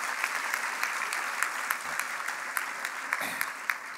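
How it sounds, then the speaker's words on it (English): An audience at an MPAC 2016 gathering applauds Javier Becerra with steady, full clapping from many hands, individual sharp claps standing out near the front and a couple of soft low thumps underneath. "So let's give him a big round of applause."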